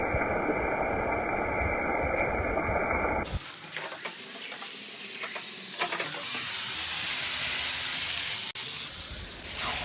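Marinated goat meat hits hot oil in a pan with tomato and onion, bursting into loud, continuous sizzling while being stirred, with scraping and clinks of the spoon over the steady hiss.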